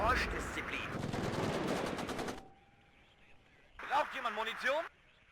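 Bursts of rapid automatic gunfire from units in the WARNO wartime strategy game, loud and dense for about two seconds, then a quieter pause and a second shorter volley with a whining tone.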